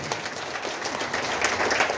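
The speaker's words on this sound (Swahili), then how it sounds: "Tuwapigie makofi mazuri." A brief burst of moderately faint crowd applause for content creators at a party, steady clapping that swells slightly toward the end.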